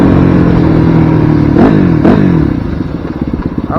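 A 2006 Yamaha WR250F off-road motorcycle rides at about 50 mph. Its engine drones loud and close with a steady pitch, broken by a couple of sharp clattering bumps, then the sound eases and wavers near the end.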